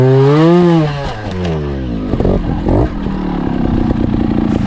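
A 2019 factory Sherco trials motorcycle revving as it climbs, a rising engine whine that drops off, then choppy bursts of throttle and clattering over rough ground, close by.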